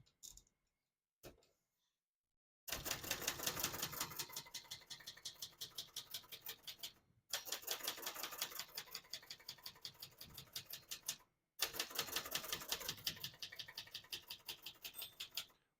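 Rapid keystrokes on a 1968 Brother Webster XL-500 portable typewriter, in three bursts of dense clacking separated by short pauses, close and fairly loud with no talk.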